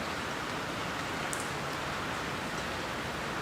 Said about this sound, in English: is it raining out there